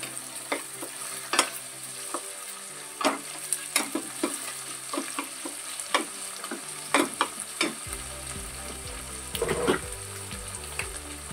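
Onions fry in a pan with a steady sizzle, broken by frequent scraping knocks as they are stirred, and a low hum joins in over the last few seconds.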